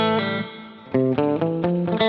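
Electric guitar notes and chords ringing through a splashy spring reverb effect, a sustained tone then a few plucked chords with a wet, lingering tail.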